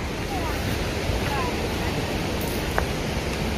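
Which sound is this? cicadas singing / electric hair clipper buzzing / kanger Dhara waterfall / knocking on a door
kanger Dhara waterfall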